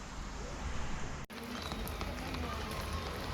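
Steady rain falls in Rapallo, Italy, as a dense, even hiss of drops on hard surfaces, continuous and close, with one brief dip in the middle.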